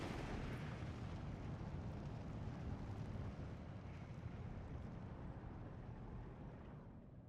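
Artillery explosion in the Steel Division 2 war strategy game, a sustained low rumbling blast with heavy noise that slowly fades over several seconds, heard alone without voices.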